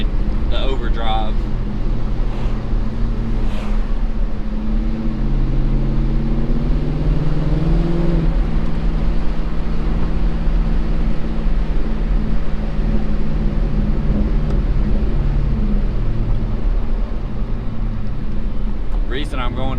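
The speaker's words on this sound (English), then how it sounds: "On the interstate, it really winds out in the overdrive" Chevy S-10 pickup with a swapped 5.3 LS V8 cruising on the interstate in overdrive, a steady low engine drone and road roar throughout, with someone talking over it.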